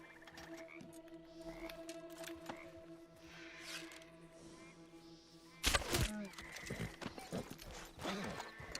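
In Red Dead Online, a horse's hooves clip-clop quietly beside ambient game sounds, with a faint neigh and a sudden louder burst of movement midway, then scattered trotting and rustles.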